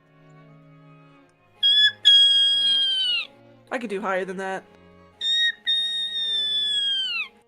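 A person imitates a dog whistle with a very high-pitched, whistly yippee squeal, several sustained shrill cries that slide downward at their ends, broken by a short spoken remark, close and loud.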